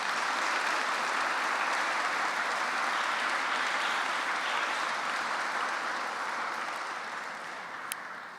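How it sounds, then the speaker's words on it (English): Sustained audience applause for primary school debaters at an inter-school debating championship, a dense, even wash of clapping across the room that slowly fades near the end. "round of applause."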